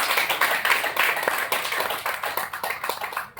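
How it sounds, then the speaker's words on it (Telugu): An audience claps loudly at a health seminar, a dense run of overlapping hand claps that carries on without a break and then cuts off abruptly. "ఒక్కసారి చప్పట్లు గట్టి కొట్టండి"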